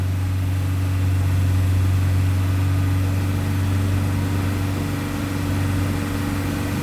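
Ford Versailles/Santana with an EEC-IV EFI engine revving steadily, a loud, continuous low engine drone with a strong hum throughout and no talk.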